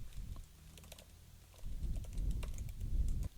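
Quiet, close typing on a computer keyboard, a run of light key taps that grows busier and denser toward the end.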